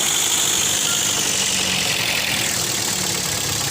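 Toyota Vios engine that keeps overheating and losing coolant, running steadily after a restart during a thermostat test, a loud continuous close-up drone with no talking.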